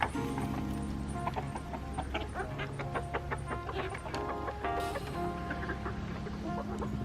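Backyard chickens cluck repeatedly at close range, overlapping short calls in a busy, steady flock chatter with no talking.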